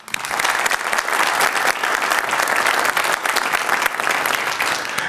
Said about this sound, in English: let's give a round of applause for our sponsors who supported us so great